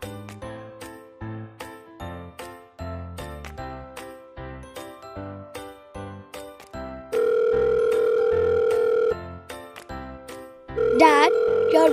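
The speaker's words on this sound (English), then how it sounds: "your mobile is ringing" A plucky melodic phone ringtone plays in short repeating notes, then shifts to a sustained electronic tone, ending in a louder warbling ring.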